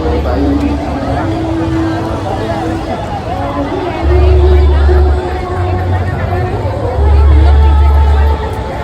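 A dense crowd hubbub fills a busy temple during darshan of Vithuraya (Vitthal), a loud, steady babble of many voices close by, with a deep hum swelling in and out and people talking over it.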